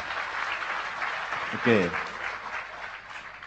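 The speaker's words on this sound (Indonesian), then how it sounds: "tepuk tangan untuk beliau" Audience applause at a public talk by a well-known figure, a steady crowd clatter running throughout with a brief spoken word over it midway.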